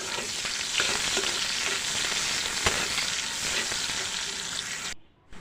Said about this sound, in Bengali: পেঁয়াজ কুচি দিয়ে দিলাম এটাকে ভালো করে নেড়ে নিতে হবে